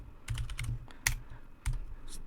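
Keys tapped on a computer keyboard while entering a command on a RHEL Linux system, a short burst of close, crisp clicks in small clusters with one sharper keystroke, no voices.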